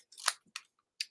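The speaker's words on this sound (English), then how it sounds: "I just kind of went in between here and just kind of wiggled my scissors back and forth" Scissors snipping through card paper during a stamped garden card craft, three short crisp cuts in close succession, close and clear with no voices.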